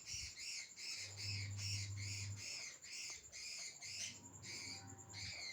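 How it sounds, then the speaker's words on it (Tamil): A parrot squawks loudly again and again in rhythmic bursts, with a low hum running underneath. "இங்கே எங்கள் கிளி கத்திகிட்ருக்கு நல்லா"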